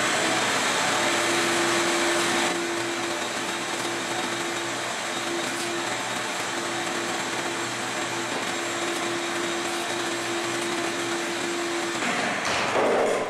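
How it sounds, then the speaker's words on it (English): Vacuum cleaner sucking debris off a Mazda Miata wheel during refinishing, a steady loud motor drone with a whine that runs unbroken for about thirteen seconds, close up. "Hit it with the vacuum."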